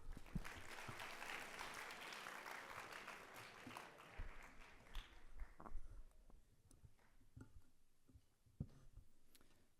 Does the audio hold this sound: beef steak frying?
no